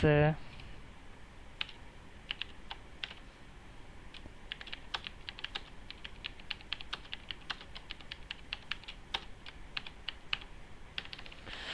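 Code being typed on a computer keyboard for an ASP.NET web page, a fast irregular run of close, crisp key clicks that continues steadily with no talking over it.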